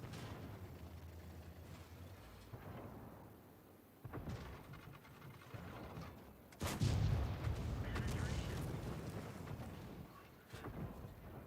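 Tank cannon fire in the online game World of Tanks, heavy booming blasts with a loud sharp shot near the middle followed by rumbling, over wind-like game noise and occasional talk.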